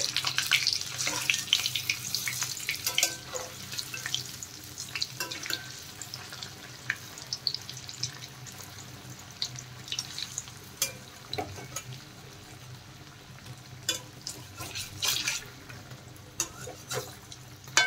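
Urad dal batter fritters fry in hot oil, giving a steady, crackling sizzle with scattered small pops throughout, with no talk.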